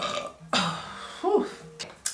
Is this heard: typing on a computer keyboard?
no